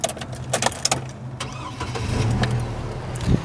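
A 2006 Chevrolet Colorado pickup engine cranks over through a few clicks and clunks, then fires and settles into a steady idle, heard close with no talking.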